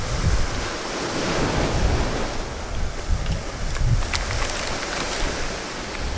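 Ocean surf washes steadily onto a beach in Spain, a loud continuous roar of breaking waves mixed with gusty wind buffeting the microphone, with no voices.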